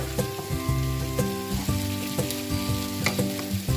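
Green onions sauté in a pan for pasta con salmone, giving a dense, close sizzle with repeated stirring taps, while a tonal backing runs underneath.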